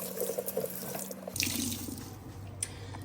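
A kitchen tap runs water to wet a sponge, a steady close splashing stream that shifts in tone partway through as the flow hits the sponge, with a couple of faint clinks.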